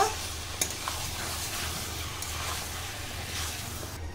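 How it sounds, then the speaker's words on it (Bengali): Chicken and potatoes frying in a pan sizzle steadily and close by while being stirred, with a few scraping clinks from the spoon over the continuous hiss. "আলুর সঙ্গে মাংসের সঙ্গে খুব ভালো করে কষিয়ে নেব।"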